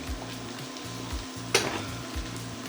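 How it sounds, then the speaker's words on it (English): Day-old rice fries in a small pot for Jamaican egg fried rice, a steady close sizzle with a rhythmic low scraping of stirring and one sharp clink of a utensil. "I'm going to allow this to fry."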